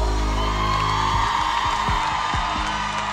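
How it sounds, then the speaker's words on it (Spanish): A live music show audience applauds and cheers, a dense steady wash of clapping with whoops rising over lingering music, loud and continuous throughout. "Los aplausos."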